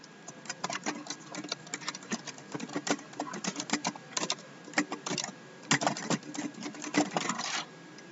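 Quick bursts of clicking on a computer keyboard as a short software command is entered, close and fairly quiet, with uneven rhythmic keystrokes and no voices.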